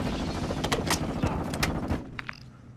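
Gunshots in Call of Duty: Modern Warfare 2 DMZ, a run of sharp, closely spaced shots over steady low rumble for about two seconds, then a couple of fainter distant cracks as the noise drops away.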